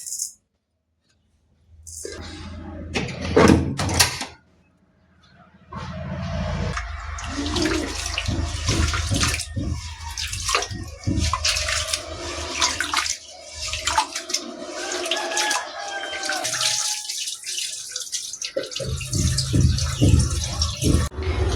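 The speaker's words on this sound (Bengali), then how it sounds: "এই তো পানিটা দিয়ে দিলাম পরিমাণ মতো" Water gushes into a pot of rice for cooking, a long loud running pour with splashing and a few clicks and knocks, interrupted briefly, with someone talking over parts of it.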